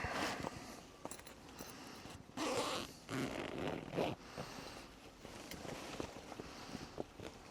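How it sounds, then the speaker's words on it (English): A zip on the underside of a yard tool's leaf collection bag is pulled open in several short, scratchy bursts, close up and fairly quiet. "you have a zip on the underside of the bag"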